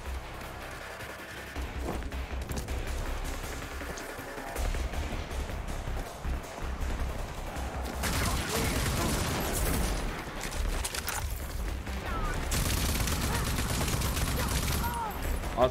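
Rifle gunfire from the Rage 2 video game runs as dense, sustained shooting with crashes and bursts throughout. It stays loud and busy and is mixed with the game's background sound.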